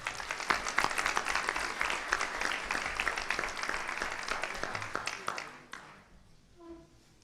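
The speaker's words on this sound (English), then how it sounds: "Let's give them another round of applause" A crowd applauds steadily for several seconds at a school district deliberative session meeting, then the clapping fades out into quiet room sound.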